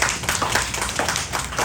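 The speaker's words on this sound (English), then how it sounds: "Let's give him a round of applause." An audience at a folk arts event gives a round of applause, heard as fairly close, uneven hand clapping with distinct individual claps.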